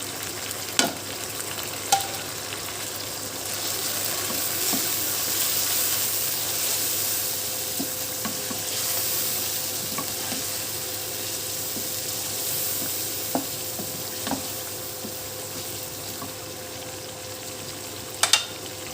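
Ginger, garlic and spices fry in a pan with a steady close sizzle, broken by a few sharp clicks of a spoon stirring.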